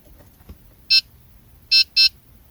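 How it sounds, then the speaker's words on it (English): A 2016-2018 Honda Pilot sounds short electronic beeps during key fob programming, one beep followed by two more in quick succession, clear and close in an otherwise quiet cabin. "When you hear the two beeping sound, switch the ignition off."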